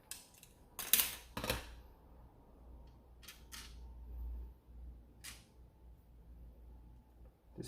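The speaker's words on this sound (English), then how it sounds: "you're going to take the 3 screws out of your original top rail here" Small screws being backed out of the top rail of a Dart Zone Max Outlaw foam blaster, giving a few sharp plastic clicks and faint scraping over a quiet background with low hum.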